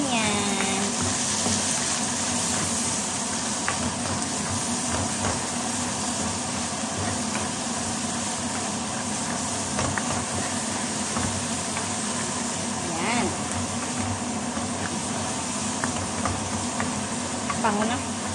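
Cooked shrimp paste (alamang) sizzles steadily in a pan as a utensil stirs and scrapes through it, a close, constant frying hiss with occasional louder scrapes and a voice speaking over it.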